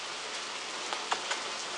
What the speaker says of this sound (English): it was raining even harder before, but now it's raining even, even harder